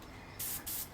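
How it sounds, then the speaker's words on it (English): A spray can sends two short bursts of paint onto a model ship part, each a close, sharp hiss lasting a fraction of a second, with a quiet pause between. "My intent is to spray with my left hand."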